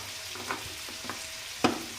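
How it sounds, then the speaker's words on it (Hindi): Coriander powder and spices roasting in a pan with curry leaves for chicken pulao, a soft continuous sizzle broken by a few sharp scrapes of stirring, with no talk. "और इसको अच्छी तरह भून लूँगी"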